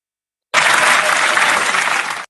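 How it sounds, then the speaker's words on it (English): A round of applause for a team at a prize distribution ceremony, a steady, close wash of many hands clapping that starts abruptly and holds evenly for under two seconds before stopping. "Can we have a round of applause"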